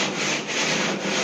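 Sandpaper backed by a semi-flexible pad rubs steadily over the curved wooden cockpit rim of a handmade kayak, a continuous, fairly loud scratchy hiss with slight rhythmic swells of the strokes, heard alone.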